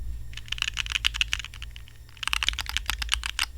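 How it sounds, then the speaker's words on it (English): Fast, uneven typing on a computer keyboard for a Reviung41 keyboard build, a dense run of close, crisp key clicks that pauses briefly midway and then resumes, with no talking. "typing."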